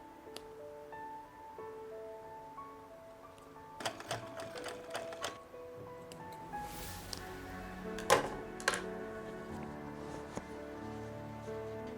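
A sewing machine stitches a lace skirt lining in short, quiet bursts of whirring, with clicks and handling noises between runs and no talking.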